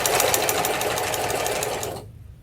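A sewing machine fitted with a walking foot runs fast and steady while stitching bulky cathedral windows quilt blocks at a quarter-inch seam, a loud continuous mechanical whir that stops abruptly near the end.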